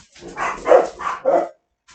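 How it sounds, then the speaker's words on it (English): A dog barks four times in quick succession, close and fairly loud, followed by a brief faint sound after a pause. "I don't know why they keep barking so much."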